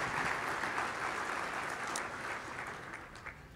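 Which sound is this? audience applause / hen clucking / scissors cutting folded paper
audience applause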